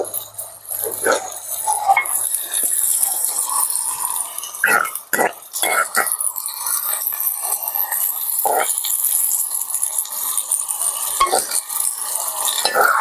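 Sliced squid frying in oil while being stirred, a loud constant sizzle close up with irregular scrapes and clanks of a spoon against the pan throughout.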